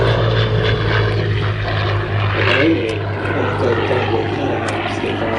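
A propeller-driven Second World War warbird flies past at an airshow, a loud, steady engine drone with a swelling and fading pass, heard alone without talk.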